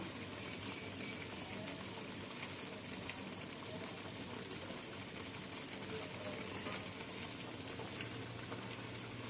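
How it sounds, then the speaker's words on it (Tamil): Raw papaya gravy bubbling in a pan, a steady dense simmering hiss and gurgle that stays even and fairly quiet throughout with no talking. "இப்போ கிரேவி நல்லா கொதி வர ஆரம்பிச்சிருச்சு"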